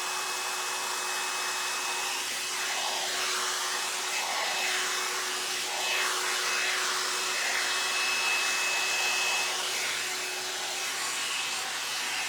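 A hair dryer blows steadily on hair while it is blow-dried for smooth, silky styling, a constant close whooshing hum with slight swells as the airflow moves, and no talking.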